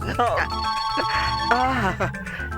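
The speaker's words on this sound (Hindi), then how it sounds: "कितनी मधुर घंटी बज रही है। किस तकदीर वाले का फोन है?" A telephone rings with a steady, sustained electronic tone while people talk loudly over it throughout.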